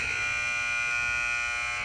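A loud, sustained electronic buzzer ends a varsity high school basketball game, Cape Elizabeth against Waynflete, droning steadily for about two seconds with no pause.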